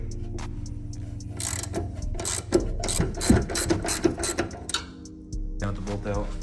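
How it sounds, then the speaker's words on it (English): Breaker bar working a bolt loose on a Nissan 370Z suspension strut, giving close mechanical clicks and clunks over a steady low hum, with a brief voice in the middle. "So we'll start off with a breaker bar"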